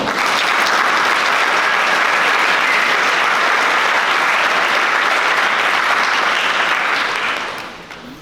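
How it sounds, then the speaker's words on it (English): Loud, sustained applause from a large audience at a closing ceremony, steady dense clapping for about seven seconds before tapering off at the end. "Let's have a round of applause for that."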